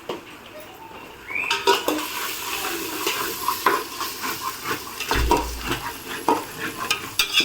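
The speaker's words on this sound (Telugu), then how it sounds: "పసుపు వేస్తున్నాం రెండు చెంచాలు పసుపు బాగా కలుపుకోవాలి" Two spoons of turmeric stirred into Telangana-style fish curry in a pan: a spoon clanks and scrapes against metal over a bubbling sizzle, starting quietly then growing busier, with one low thud midway and no speech.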